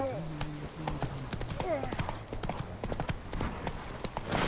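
Roach the horse galloping in The Witcher game: a rapid, steady run of hoof clops close by, under a voice talking, with a brief snort or whinny.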